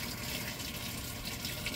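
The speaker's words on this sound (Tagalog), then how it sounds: "At kasalukuyan siya naglalagay ng tubig." Water pouring into the tub of a Samsung automatic top-load washing machine during its fill cycle, a steady loud hissing gush of inflowing water, continuous and uninterrupted with no talk.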